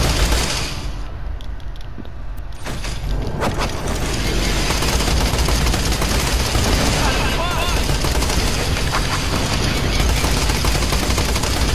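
Video game turrets firing as a dense, continuous rattle of automatic gunfire that builds after a few scattered shots and stays loud and unbroken, with a steady game soundscape underneath.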